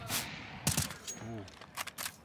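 Pistol shots crack in the Counter-Strike: Global Offensive match on the Train map, a few sharp scattered reports in the middle distance alongside faint game effects, with a commentator talking over them.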